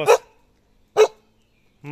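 A dog barks on command, three sharp single barks spaced about a second apart with silence in between, close and loud.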